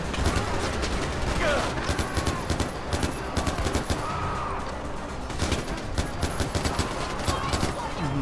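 Dense in-game gunfire from Far Cry 4, a busy fusillade of rapid shots and bursts running loud and nearly continuous throughout, with scattered mechanical clatter and a voice now and then in the mix.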